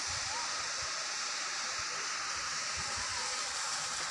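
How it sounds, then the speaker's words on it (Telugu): Water pours steadily into a pool at a scenic village spot, a constant broadband rush that fills the whole stretch with no break. "మీరు బాగా గమనిస్తే వాటర్ పడుతున్నాయి అన్నమాట వాటర్ వస్తున్నాయి లోపల చూడండి"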